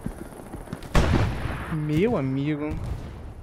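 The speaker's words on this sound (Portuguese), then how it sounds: "É tiro de canhão aqui que eu tô enfrentando. É de do tanque" A single heavy tank cannon blast booms out in the video game Hell Let Loose, followed by someone speaking Portuguese over rumbling background noise.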